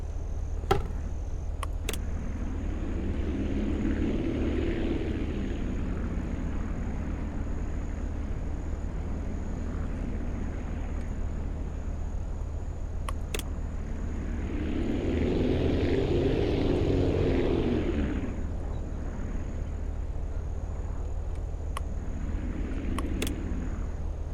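A propeller airplane engine in the Aviassembly flight game drones steadily through a forest-to-snow flight, swelling in two long surges and a shorter one at the end, with no talking.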